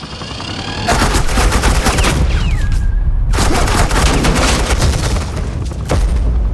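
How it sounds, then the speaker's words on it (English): Sustained suppressing gunfire in Batman: The Enemy Within, a loud continuous automatic volley that runs almost the whole time and breaks off briefly near the middle before resuming, with no speech. "I said suppressing fire!"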